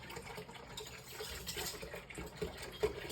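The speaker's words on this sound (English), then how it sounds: "Now I just pour the rest of the milk in." Milk pours steadily into a container for Greek yogurt made by the cold start method, a faint continuous liquid gush and splash with no break.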